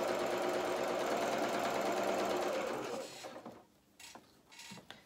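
A sewing machine stitching fabric over a seam edge runs in a steady close whir for about three seconds, then slows and stops, leaving a few soft handling knocks.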